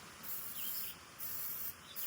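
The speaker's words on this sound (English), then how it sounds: "Let me give myself one more spray." Tick repellent spray hissing out of an aerosol can in three short bursts near the microphone, with quiet outdoor camping ambience in high grass between the sprays.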